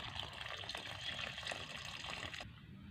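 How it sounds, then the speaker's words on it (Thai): Water runs steadily from a tap, a broad continuous gush that cuts off abruptly near the end, leaving a quiet room while potted plants are tended. "เดี๋ยวปิดน้ำแป๊บนะคะ"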